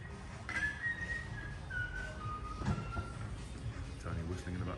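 A man whistles a wavering tune in the background of a camper van conversion workshop holding VW T6.1 Sportline Black Edition vans. The whistling is moderately clear against a steady room murmur and faint voices.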